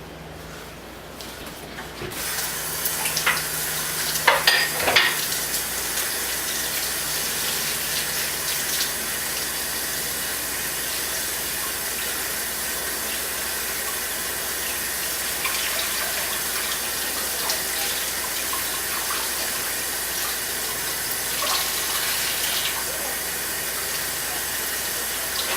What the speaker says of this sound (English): Just wash it underneath cool water for about,